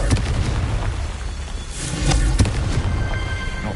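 A Confringo blasting spell in the Hogwarts Legacy video game goes off as a booming explosion, a sustained rumbling burst with crackling debris that swells near the middle and fades, heard alone without talk.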